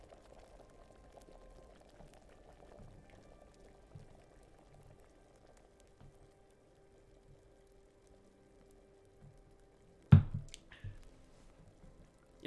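A potion bubbles quietly during alchemy brewing in Kingdom Come: Deliverance, a faint low simmer running steadily, broken near the end by a sudden sharp clunk and splash.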